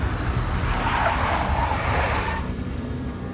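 A big black Mercedes skids in Max Payne, a loud tire squeal and engine roar that swell for about two seconds and then fade out, heard alone with no talking.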